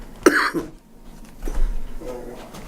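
A sharp, close cough, with a quieter throat-clearing sound and some breathy noises trailing after.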